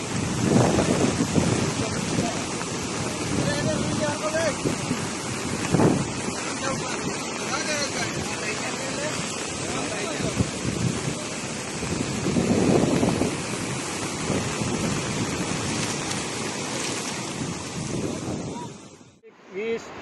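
A river in heavy flood after torrential rain in Maliya Hatina, Junagadh, roars with a dense, continuous rush of water and wind buffeting the microphone for the whole stretch.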